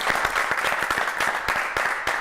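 A studio audience on an Italian television football talk show applauds a guest as he arrives, a steady, loud burst of dense clapping lasting a couple of seconds with no voices over it.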